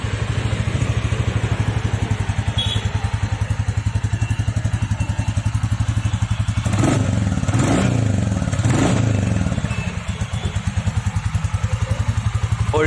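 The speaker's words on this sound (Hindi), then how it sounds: "अगर एग्जॉस्ट की बात करें तो ओल्ड क्लासिक के कंपैरिजन में इसमें थोड़ा बहुत सिमिलर है" A 2021 Royal Enfield Classic 350 in Halcyon Grey thumps steadily through its exhaust, a close, loud, rapid single-cylinder pulse that swells briefly midway before settling back, with no talking.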